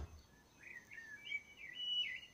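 Garden birds singing close by, a run of bright warbling chirps and trills over a quiet outdoor background, no talking.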